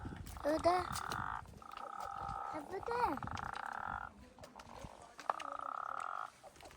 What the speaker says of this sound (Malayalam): തവള തവള